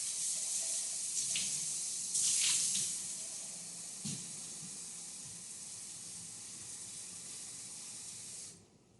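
Water running from a sink tap into a container, a steady close hiss of flow lasting several seconds with a few small splashes before cutting off.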